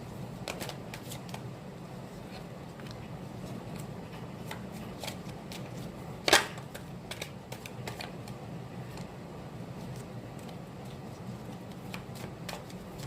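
Tarot cards being shuffled close by, a soft steady riffling patter with one sharper snap midway, running quietly on its own with no voices.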